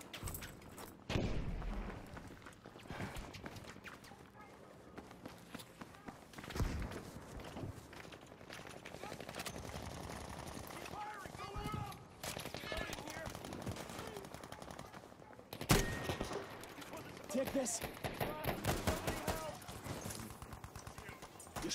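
Rapid video game gunfire, automatic bursts and single shots, crackles throughout a battlefield scene, loud and near, with people talking over it.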